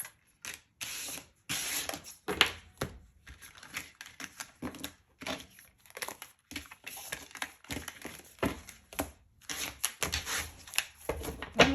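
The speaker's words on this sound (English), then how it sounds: "Just give them a quick shuffle." Tarot cards are shuffled in quick, crisp riffling bursts, close and fairly quiet, with short pauses between.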